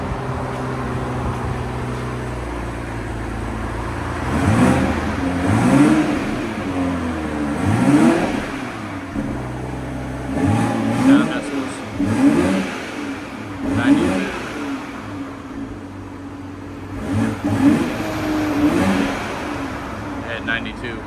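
Stock exhaust on a 2021 Toyota Supra GR, revved repeatedly in short bursts, each blip rising and falling in pitch at a steady rhythm, fairly close, with a constant idle rumble between revs.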